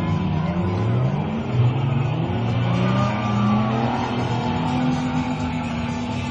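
Near-standard V6 Toyota Hilux utes racing at the Brisbane Ekka show, a continuous blended engine roar with rising and falling revs from several trucks over a loud crowd-like background, sustained throughout.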